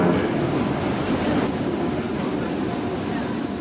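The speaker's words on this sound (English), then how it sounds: "The next key train through 8th Street is now arriving." Subway train pulling into the 8th Street station, a steady loud rumble of rolling rail cars with faint clattering, continuous and close throughout.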